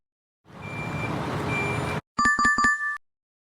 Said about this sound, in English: Sound is truck backing up